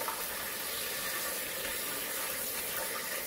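Chickpeas are rinsed under running water in a kitchen sink. A steady, fairly loud rush of tap water flows without a break for a few seconds, with no talking.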